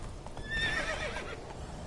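A horse named in The Witcher 3 game gives a short whinny with faint hoof clip-clop, quiet and brief, heard alone.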